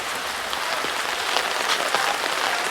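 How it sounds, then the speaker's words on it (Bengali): Heavy rain falling at a ferry ghat in the Sundarbans, a dense, even hiss of drops on surfaces, loud and continuous with no voices. "বাইরে হচ্ছে প্রচুর বৃষ্টি"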